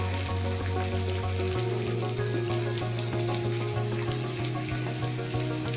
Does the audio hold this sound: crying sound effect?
no